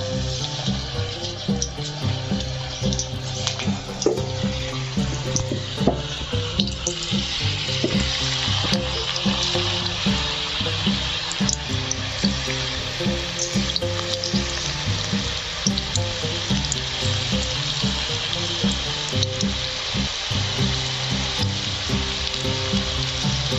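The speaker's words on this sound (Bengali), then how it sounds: "তেলটা গরম হয়ে গেছে, এখন অল্প অল্প করে দেবো।" Banana stem pakora batter frying in hot oil, a loud continuous bubbling sizzle with crackles that holds steady throughout, close and without talk.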